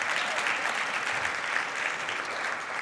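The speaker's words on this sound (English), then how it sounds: "you can clap for that" Audience applause fills a Christian talk venue, an even, sustained wash of many hands clapping at moderate volume, heard alone without speech.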